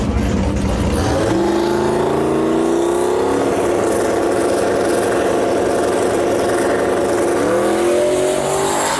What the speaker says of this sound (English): Chris Houston pulling up to the line here with an LS Turbo Fox body